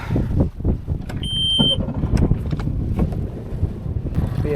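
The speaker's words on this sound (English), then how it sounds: "The wind is beating me up on this this point here." Wind gusting over a lake at a wooded point during bass fishing practice, a loud rumbling buffet against the microphone with faint boat and water noise beneath.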